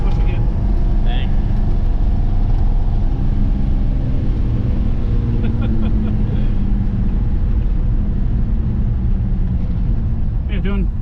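A car engine is floored at full throttle, giving a loud, continuous roar that fills the whole stretch, heard from inside the car.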